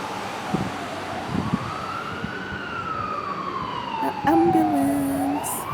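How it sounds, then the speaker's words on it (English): An ambulance siren passing a hotel balcony in Jerusalem, its wailing tone rising and falling over city traffic, with a second horn-like blare near the end and a voice briefly heard. "Ambulance."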